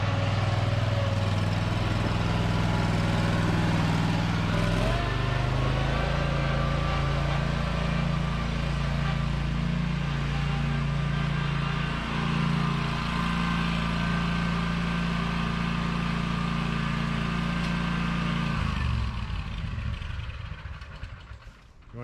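Bobcat 52 mower engine running steadily and loud at close range, a deep droning hum that shifts pitch around five seconds, holds, then cuts off abruptly near the end.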